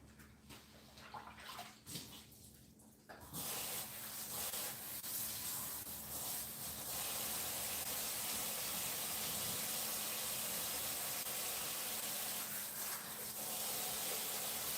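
Tap water runs steadily in a kitchen sink for rinsing while making tamales, a loud continuous gush that starts after a few seconds of quieter splashing and handling.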